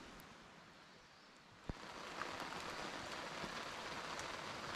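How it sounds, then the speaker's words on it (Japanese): Rain falling by the sea, a steady dense hiss of drops on surfaces with a single sharp tap partway through, then the hiss grows a little heavier and continues evenly. "雨でびしゃびしゃだけど全然気にしない。"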